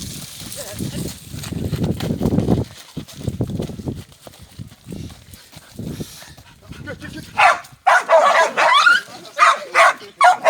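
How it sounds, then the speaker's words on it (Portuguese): A dog barks in sharp repeated bursts near the end, after stretches of people talking close by. "Apareceu esse cachorro."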